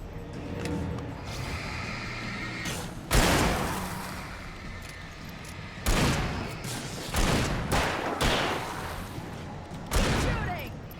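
Gunfire in the Alan Wake video game during a tense ambush escape, heard as several sharp loud bursts spaced across the clip over a steady background, with voices talking between shots.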